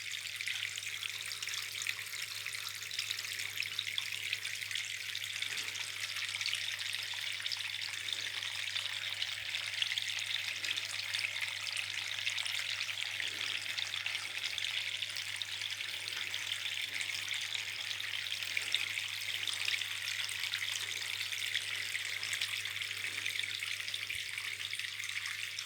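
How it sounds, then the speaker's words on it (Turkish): The Saksı waterfall pours in a steady, broad rushing hiss of falling water, unbroken and even throughout, heard close with no voices over it. "şelale diyorlar buna."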